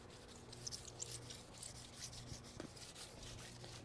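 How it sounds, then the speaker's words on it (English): Restoration compound rubbed by hand into the painted surface of a Honda CB350 motorcycle, soft close rhythmic scrubbing strokes at low volume with no talk. "Okay, do some more rubbing."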